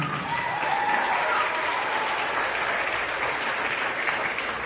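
Sustained applause from a concert crowd at a spring band concert, many hands clapping evenly and loudly for several seconds, filling the room without pause.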